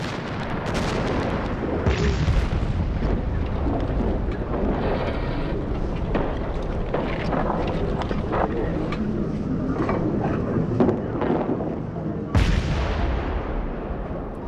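A short, intense French artillery bombardment from the First World War: dense, overlapping booms and rumbling blasts roll on continuously, with a sharp, loud burst breaking out near the end.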